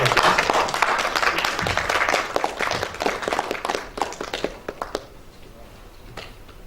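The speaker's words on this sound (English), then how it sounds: "Kindly give a kind round of applause." A round of applause from an online yoga and education session audience, dense clapping for about four seconds that thins into scattered claps and fades out.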